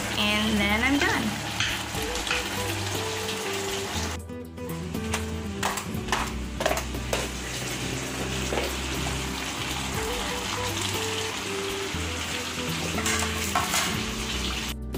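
Long beans go into a pan of frying pork pinakbet with squash, and it sizzles and hisses steadily for about fifteen seconds. Sharp stirring clatters and scrapes come through the sizzle, with a brief dip near the four-second mark.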